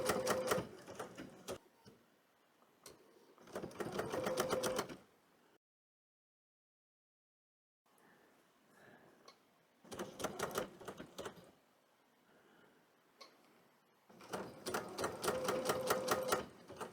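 A sewing machine stitches a wool appliqué in bursts of rapid, even needle strokes, three loud runs with quieter mechanical whirring between them and a short silent gap near the middle.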